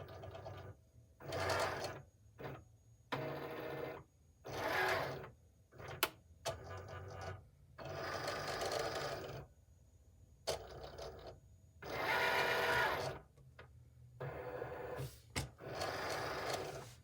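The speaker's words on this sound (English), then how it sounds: "that registration box will tell the Cricut machine where to cut the labels" A Cricut cutting machine slices print-then-cut sticker labels for lip balm, its carriage motor whirring in repeated bursts of one to two seconds separated by short pauses, close and steady, with no voices.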